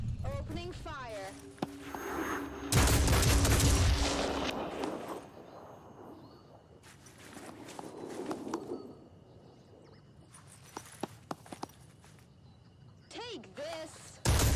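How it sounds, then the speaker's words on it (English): Gunfire in the Phoenix Point tactical video game, with a loud burst of shots early on and scattered sharper cracks later, mixed with game sounds and brief voices. "Opening fire."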